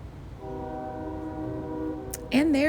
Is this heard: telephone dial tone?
no